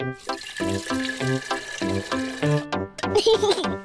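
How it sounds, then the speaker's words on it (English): Water pours into a cartoon toy teapot shaped like a dinosaur, a brief gurgling fill heard over a bright musical background with tonal notes. "Let's fill it with water."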